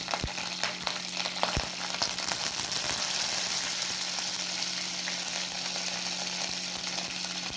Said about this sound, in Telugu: శనగపప్పు, మినప్పప్పు, ఎండుమిరపకాయలు, చిన్న ఇంగువ, తర్వాత కరివేపాకు వేస్తాను.